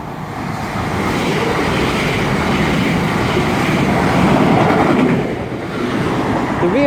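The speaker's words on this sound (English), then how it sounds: "passing through now is going to be a class 334" A class 334 electric train to Edinburgh Waverley passing through Bowling station, a steady loud rush and rumble of wheels on rails sustained throughout, close by with no talking.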